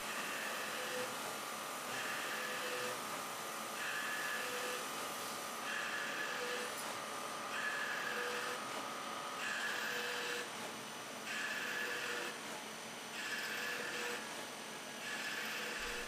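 A CNC lathe cutting an external thread with a threading tool, a steady machine whine and hum with repeating tonal passes that swell and drop every second or so, continuous and moderately quiet.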